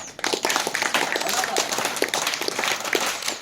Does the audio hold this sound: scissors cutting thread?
no